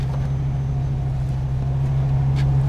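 Idling RV engine heard close at the exhaust, a steady low throbbing hum with an even, unbroken drone throughout.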